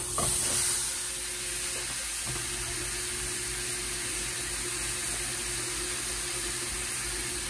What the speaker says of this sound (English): So first thing we want to do is sear the tri-tip, just the outside